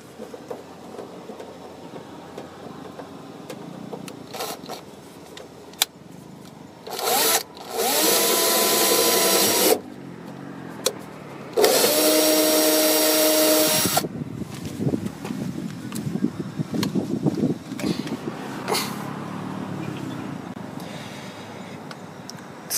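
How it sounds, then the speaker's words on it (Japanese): A power drill enlarges a hole in the body of an AE111 car while a side step reinforcement is fitted. It whirs loudly in two close bursts of a few seconds each, with quieter handling clatter before, between and after them. "少し大きめのドリルで穴を広げていきます。"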